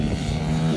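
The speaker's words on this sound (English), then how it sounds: "I'm gonna try to do a flyby and make it backfire." A pit bike engine buzzes past in a brief flyby, a raspy mid-pitched rev that swells and holds for under a second, fairly close.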